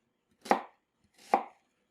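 Two sharp knife chops through an onion on a cutting board, close and distinct, roughly a second apart, in an otherwise quiet kitchen.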